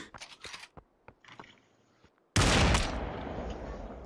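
Gunfire in the VR shooter Population: One: a scatter of sharp distant shots and clicks, then a sudden loud close burst of sustained rapid fire that carries through to the end.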